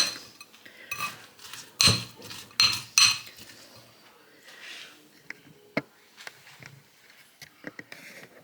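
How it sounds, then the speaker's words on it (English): A spoon clinks and scrapes against a bowl while mixing and pressing down a thick cheesecake-style breakfast paste. Sharp metallic knocks cluster early, then softer scattered taps and scrapes follow, close up in a quiet kitchen. "I'll kind of mix that in using the back of the spoon to push down until it all kind of comes together"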